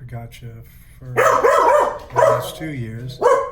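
Dogs bark outdoors in loud bursts of several yaps, partly overlapping a voice speaking, with quieter gaps of talk between the barking spells.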